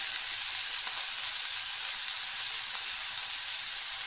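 Butter and ginger-garlic paste sizzle steadily in a pan while frying a red lentil soup base, a close, even hiss with no talk.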